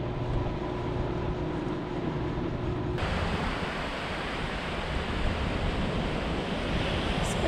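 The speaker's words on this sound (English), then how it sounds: "Spectacular beach." Surf washes steadily onto a beach on Eleuthera in the Bahamas, a constant broadband roar of breaking waves with no pauses, filling the scene evenly from start to finish.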